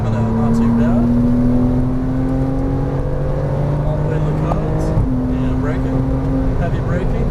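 A Porsche Cayman R on a race track holds a steady engine drone, then the pitch drops sharply at a downshift under heavy braking, with a driver talking over the engine throughout.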